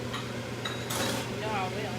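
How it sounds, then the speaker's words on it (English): Cups clink and knock together as they are put away at a kitchen sink, a few bright, scattered clinks over a steady low hum. "I'm going back and forth to the sink to put these cups up"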